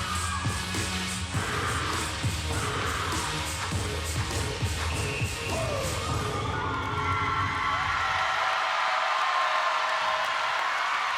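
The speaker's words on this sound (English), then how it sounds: "And the crowd loves it." Crowd cheering at a college gymnastics meet in an arena, a broad roar of shouts and applause that fades out about two-thirds through, leaving quieter room noise.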